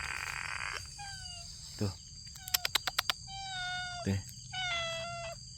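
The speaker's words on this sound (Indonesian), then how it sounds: "ada kucing tiba-tiba datangin kita" A cat meows repeatedly in a forest, several drawn-out, falling mews close by, with insects buzzing steadily in the background and a few short spoken sounds between the calls.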